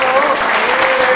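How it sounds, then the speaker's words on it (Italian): Loud, dense applause from an audience at a Popolo della Famiglia gathering with Monsignor Giovanni D'Ercole, a continuous wash of clapping filling the whole moment. "che salutiamo con un grande applauso"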